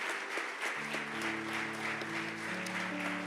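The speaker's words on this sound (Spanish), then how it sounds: "Podemos dar un aplauso al Señor." Church congregation at a Spanish-language worship service applauds the Lord, steady crowd clapping over sustained keyboard chords, moderately quiet and continuous.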